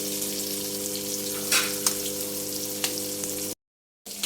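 Hilsa fish frying in oil, a close, steady sizzle with occasional louder crackles and spits over faint background music, cut by a brief silence near the end.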